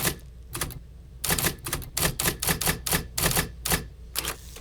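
Simulated typewriter key strikes from the Hanx Writer app on a tablet, a loud close run of crisp clacks in bursts with short pauses, steady and irregular like fast typing, no voices.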